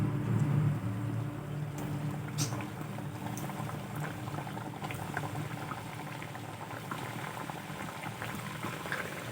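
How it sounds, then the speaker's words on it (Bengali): Semolina snacks deep-fry in oil over high gas heat, a loud, bubbling, steady boil-like frying sound heard close up throughout. "আমি বাকি নাস্তাগুলো একইভাবে তেলের মধ্যে দিয়ে ভেজে নেব।"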